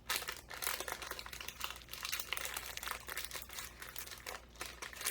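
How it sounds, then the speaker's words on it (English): Parchment paper being twisted and folded into a fish en papillote parcel, a dense continuous crinkling and crackling close up, steady throughout with no talk. "Push that in there, push and fold."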